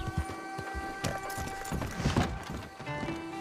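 Horse hooves clip-clop at a steady run in Red Dead Redemption 2, close and continuous over game music and ambience, with occasional snorts.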